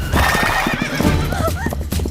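Horse neighing with a rising whinny over steady clip-clopping hooves, close and loud with no voices, heard during a comedy film scene.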